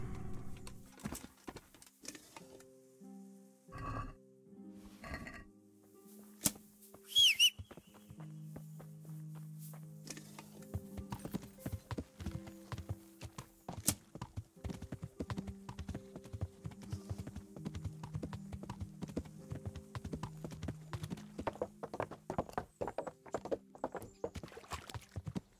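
Horse hooves clip-clop steadily across ground in the medieval game Kingdom Come: Deliverance, a close, rhythmic walking gait joined by a brief neigh and game music tones, with no talking.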